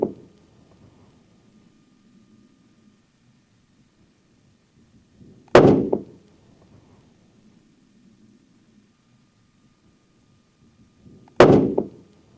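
Two loud rifle shots from a CVA Cascade firing Federal Fusion bonded soft point ammunition crack about six seconds apart, each with a sharp blast and a short booming decay, in otherwise quiet outdoor surroundings.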